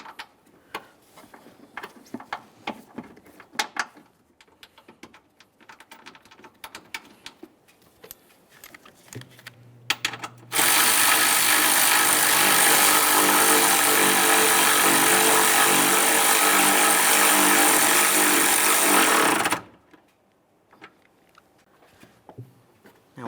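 A power tool runs steadily for about nine seconds, driving a mounting bolt on a 2015-2020 Ford F-150 3.5L during AC condenser work, with quieter clicks and handling noises before and after.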